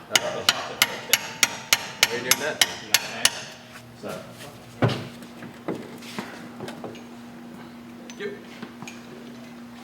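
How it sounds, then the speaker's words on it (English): About a dozen sharp metal hammer blows ring out in a quick, even rhythm as a part is hammered through a Tesla electric motor, then stop, followed by scattered knocks, a steady hum, and a brief spoken question. "Shouldn't be hammering that through."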